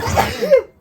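A single short, abrupt sneeze, close and fairly loud, heard alone before fading into silence.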